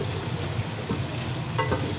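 Garlic and ginger fry in a pan with a steady, close sizzle, joined by a few brief scraping stirs.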